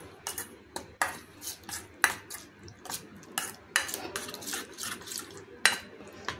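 A spoon clinks and scrapes against a metal bowl while masala, turmeric and coriander-cumin powder are stirred together, giving repeated sharp taps and light scraping strokes at close range with no talk.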